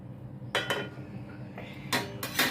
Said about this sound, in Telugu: చిన్నది పెనం పెట్టుకున్నాను